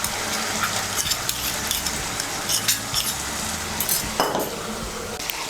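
A spoon scrapes and clinks as mustard-poppy-green chilli paste is mixed into boiled potatoes in a pan, over a constant sizzle, close up with quick, irregular strokes.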